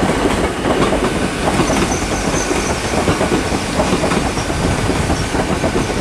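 A Great Western Railway class 802 train on the London Paddington to Penzance service arrives at Plymouth station, its wheels clattering steadily over the rails with a loud, continuous rolling rumble and faint squeals.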